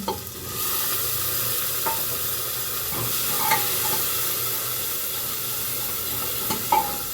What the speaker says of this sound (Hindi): तो मैं डाल दूँगी आलू इसमें।